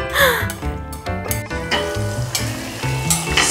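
Food sautéing in olive oil in a pan, with a steady close sizzle and repeated scraping stirs from a utensil. This is home cooking of freshly caught mahi-mahi, and sharp clanks break through the sizzle.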